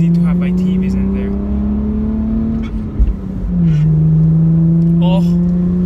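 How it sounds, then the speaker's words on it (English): A Toyota MR-S 2ZZ engine idles steadily, then drops briefly before revving back up into a sustained, loud drone. "Oh, this engine sounds so good."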